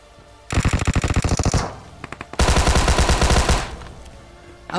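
Automatic gunfire in PUBG comes as two long, loud, rapid bursts of shots, close and continuous, separated by a brief pause, with no talking.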